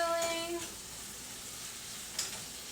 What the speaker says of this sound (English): My steak is finally starting to cook.